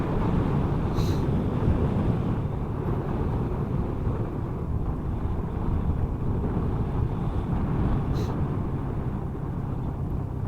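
Continuous roaring wind buffeting the microphone, broad and steady with no pauses, loud and close throughout.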